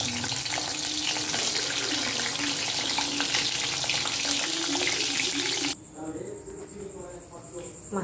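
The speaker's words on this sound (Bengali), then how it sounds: "মাছের মাথাগুলো ভাজা হয়ে গেছে" Fish heads fry in hot oil with a dense, loud sizzle for most of the stretch before it drops abruptly to a quieter, thinner hiss with faint kitchen sounds near the end.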